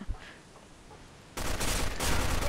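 Gunfire in the online shooter Arctic Combat, a sudden dense burst of rapid shots starting midway and continuing loud to the end after a quieter stretch.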